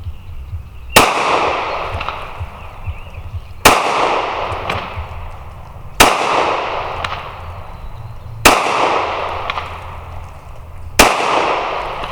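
A Glock 43 pistol fires at an outdoor range: five sharp, loud single shots spaced about two and a half seconds apart, each with a ringing echo decaying behind it, and no talk.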